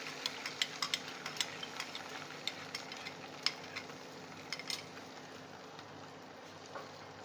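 Beaten egg poured into hot butter in a pan sizzles steadily, with faint crackles and small clicks of a utensil touching the pan; no talking.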